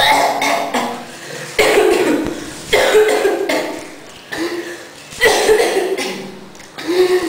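Repeated harsh coughing bursts from someone mixing powdered hair dye at home, several close, loud coughs and throat clearings spaced out over a few seconds.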